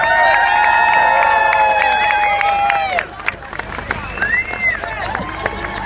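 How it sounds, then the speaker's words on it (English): Crowd at the Fleadh Cheoil traditional Irish music festival in Ennis, 2016, cheering and applauding a group of four dancers; loud, dense clapping and shouts fill the first half, then thin out into scattered claps and murmuring voices. "Give them a big round of applause."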